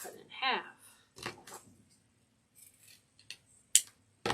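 Scissors cut ribbon for an Easter gnome and carrot wreath, making a few faint snips and rubs with quiet pauses between them, while someone speaks briefly over the cutting.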